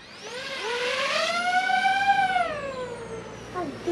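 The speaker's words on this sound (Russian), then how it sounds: "Запуск двигателей. Взлет." A DJI FPV drone on an airfield starts its motors and lifts off. Its whine rises in pitch, holds a steady high buzz for a moment, then tapers and drops away. The sound is close and moderately loud, with no talk.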